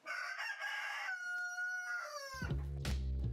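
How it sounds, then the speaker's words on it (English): A rooster at a village chicken coop gives one clear, drawn-out crow, then lower clucking and squawking from the chickens follows, with no talking. "all the chickens? And roosters too?"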